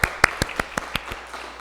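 A church congregation gives a short burst of sharp birthday hand claps in a quick, steady rhythm, growing softer and trailing off after about a second.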